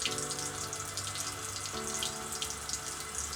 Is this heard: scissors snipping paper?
no